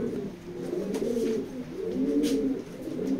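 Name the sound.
racing pigeons cooing in a loft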